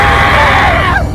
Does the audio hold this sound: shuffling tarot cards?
no